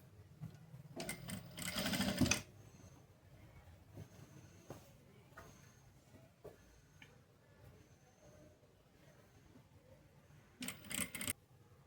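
A sewing machine stitches a blouse in two short rapid whirring bursts, one near the start and one near the end, with quiet handling and faint room sounds between.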